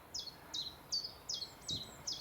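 A small bird sings in the Kent countryside near Lympne and Hythe, a series of about six evenly spaced high, bright chirping phrases, fairly near and clear over a quiet outdoor background.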